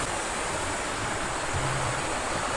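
A river flowing past a riverside campsite: a loud, steady, close rushing roar of water that holds unbroken throughout with no voices.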